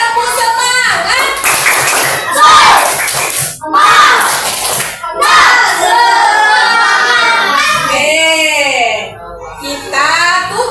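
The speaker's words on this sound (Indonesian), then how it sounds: "kita tepuk semangat dulu ya sama-sama" A classroom of children joins in rhythmic 'tepuk semangat' spirit clapping at the close of a coding lesson, loud patterned claps with young voices chanting and calling out throughout.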